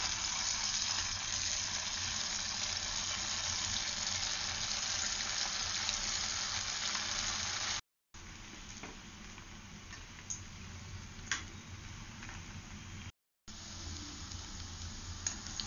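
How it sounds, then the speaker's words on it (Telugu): Cauliflower pieces deep frying in oil for gobi manchurian give a steady, dense bubbling hiss with occasional faint ticks and crackles. There are two brief silent breaks and no talking. "ఈ క్యాలీఫ్లవర్ ముక్కలన్నీ దీంట్లో వేసి ఇలా డీప్ ఫ్రై చేసుకోవాలి"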